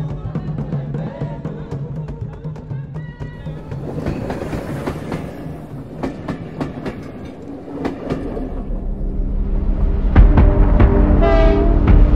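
The Rovos Rail Pride of Africa train rolls along with rhythmic clacking of wheels over rail joints, and a horn-like tone sounds toward the end as the rumble builds louder.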